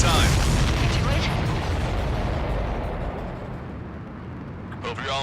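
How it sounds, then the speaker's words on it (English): A large supply ship exploding in the Ace Combat 7 flight combat game, a heavy rumbling blast that slowly fades over several seconds with voices over it. "Did you see that explosion?"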